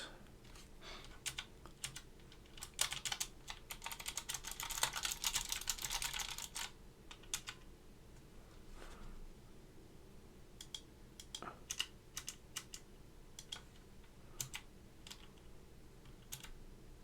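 A restored Portable PCII mechanical keyboard fitted with Alps SKCM White switches is typed on nearby, producing rapid clacky keystrokes that come in a dense burst and then settle into sparser, irregular presses.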